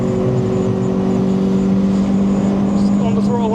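A Renault Clio 182 hatchback held at full throttle around Thruxton Circuit, its engine a loud, steady, droning roar heard from inside the car, close and continuous with rising harmonic tones.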